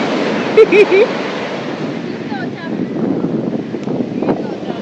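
Sea waves at Uppada beach near Kakinada make a broad, rushing wash of surf with wind buffeting the microphone, and a voice and brief whistle-like sounds are heard early on.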